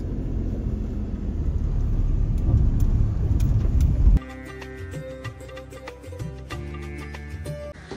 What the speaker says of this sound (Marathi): आपण गाडी पार्किंग केली इथे